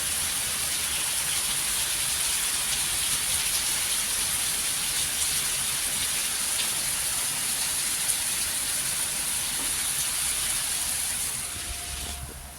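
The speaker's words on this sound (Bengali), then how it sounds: "বাইরে আবার বৃষ্টি শুরু হয়েছে" Steady rain pours outside in a dense, even hiss that continues without pause, then softens slightly at the very end.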